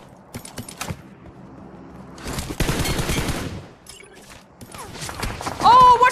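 Bursts of gunfire in the video game Fortnite, a quick crackle of shots, then a dense louder volley in the middle and another close burst at the end, with sparse clicking between.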